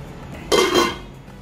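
A metal lid set down on a pan of egg curry gives one short clattering clank that rings briefly and fades against a quiet background.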